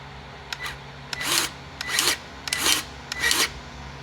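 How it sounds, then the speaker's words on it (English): A hand grease gun pumping grease into the track adjuster of a John Deere 329D compact track loader, giving four or five rhythmic rasping strokes roughly every half second, close and without talk. "let me see if I can put a little grease in this thing with one hand"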